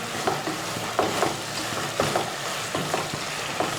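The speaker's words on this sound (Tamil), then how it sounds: "2 தக்காளி சேர்த்துருக்கோம். இதோடு சேர்த்து நல்லா வதக்கலாம்." Two tomatoes sauté in a pan for Nellai chicken chukka, a loud steady sizzle with regular stirring scrapes and spoon taps about once a second.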